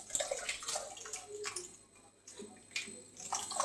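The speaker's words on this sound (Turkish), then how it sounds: "şimdi suyumuzu ilave edeceğiz." Water poured into a sugar mixture for lemonade, with soft splashing and trickling in uneven bursts, close and fairly quiet.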